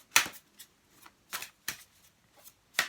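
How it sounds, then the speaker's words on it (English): Tarot cards shuffled and drawn in several quick papery riffling bursts, close and fairly quiet, separated by short pauses with no talking. "let's draw you one more card."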